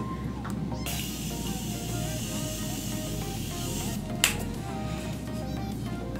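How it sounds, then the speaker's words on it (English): A long, steady hiss of makeup setting spray from a bottle onto a face runs for several seconds, then cuts off abruptly, with a faint low hum underneath. "we're just gonna spray this on my face"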